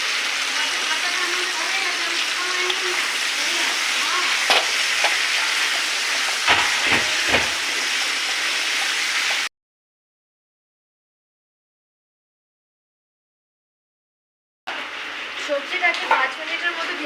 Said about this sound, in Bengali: সবজিটাকে 5 মিনিটের মতো ভেজে নিয়েছি।